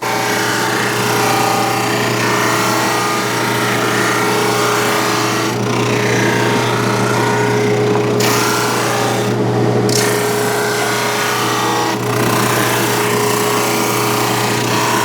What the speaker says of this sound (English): Now I can send this through the drum sander